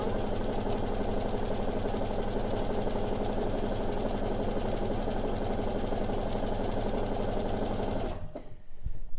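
A domestic sewing machine runs a continuous straight stitch at steady speed, a busy mechanical whir with rapid needle clatter that stops abruptly near the end.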